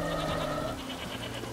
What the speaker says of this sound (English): Man, they got goats everywhere in these islands